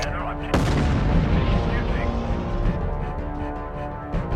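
Missiles striking a mech's cockpit in the game MechCommander 2: a sharp, loud impact followed by a sustained, dense roar of blasts and rumble that continues steadily for several seconds.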